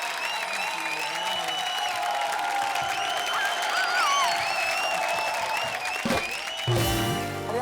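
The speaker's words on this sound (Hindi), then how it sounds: "खैर, जोरदार तालियां।" Studio audience at a comedy show bursting into loud applause, dense clapping with cheers and whoops layered over music, sustained for several seconds before a sharp cut.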